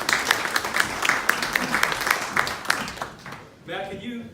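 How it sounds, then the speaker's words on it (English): Crowd applause at a 50th wedding anniversary vow renewal, dense clapping sustained for about three seconds before fading out, with voices rising at the end. "let's give them another round of applause."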